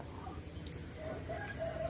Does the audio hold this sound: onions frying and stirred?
no